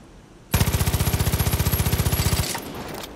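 Rapid automatic gunfire from a captured gun in the video game Far Cry 5, a loud, evenly spaced burst of about thirty shots lasting roughly two seconds, followed by a fading rumble.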